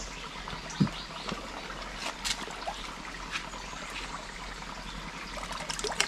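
Cold drinking water trickles steadily from a pipe brought down from higher ground in a Konkan village, a close, continuous watery splatter with small irregular splashes and no voices.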